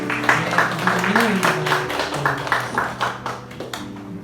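A church congregation at a Sunday worship service claps in welcome of a member, a steady patter of many hands under a speaking voice and soft sustained musical tones.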